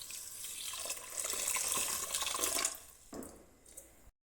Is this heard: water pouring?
yes